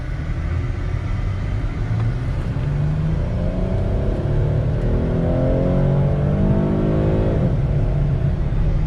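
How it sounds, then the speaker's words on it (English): A 2005 Chrysler 300 Limited, rebuilt from salvage, accelerates on the road, its engine note climbing steadily through the gears from inside the cabin over continuous road rumble, then easing off. "It accelerates pretty quickly."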